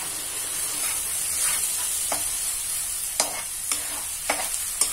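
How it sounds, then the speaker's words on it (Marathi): Two large onions frying over low heat in a pan for masala chole, with a steady hiss and sharp scraping stirs of the spoon at irregular intervals, close and fairly loud. "भाजून घ्यायचे। 2 मोठे कांदे टाकले आपण"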